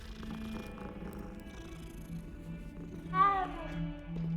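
A cat in the video game Hogwarts Legacy purrs softly, then gives a single clear meow near the end, heard close over quiet game ambience.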